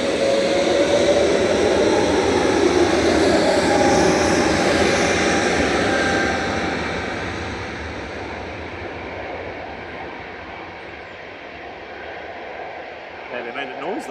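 Lufthansa Airbus A320neo jet departing Manchester Airport for Frankfurt, a broad steady engine roar that is loud at first and then fades as it climbs away, with someone talking over it throughout.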